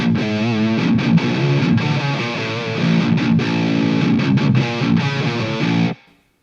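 Distorted electric guitar riff from a prog metal song, loud and driving with chugging rhythmic chords, played alone and cutting off abruptly near the end.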